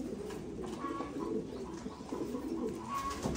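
Thai Titan meat pigeons coo in a loft, several birds producing overlapping low throaty calls at a steady, continuous level with no one talking.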